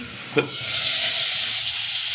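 Fish frying in hot oil in a covered pan, a dense steady hiss of spattering close by, with one brief knock near the start.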